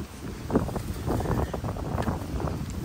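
Wind buffets the microphone outdoors in uneven low gusts, with faint rustling in the background.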